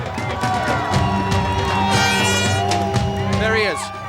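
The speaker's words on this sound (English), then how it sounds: "the crowd seems to be in full support" A crowd cheers in support of a freed man, with scattered shouts and whoops rising over a dense murmur of voices. People talk nearby throughout.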